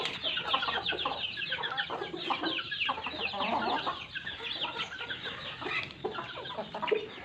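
Many Aseel hens cluck and chatter continuously at close range, a busy overlapping flock sound with no talking.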